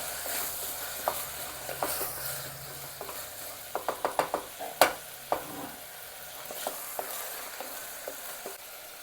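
Onion and vegetables such as cauliflower sautéing for pav bhaji, a soft background sizzle broken by a burst of sharp, rapid spatula taps and scrapes against the pan, close, with no speech.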